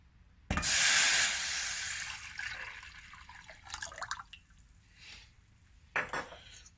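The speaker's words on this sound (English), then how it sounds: "Now for the syrup, we're going to add our pomegranate juice." Pomegranate juice pours into a pan for a panna cotta syrup, a loud splashing stream that tapers off, followed by a few faint clinks and a brief sharper splash near the end.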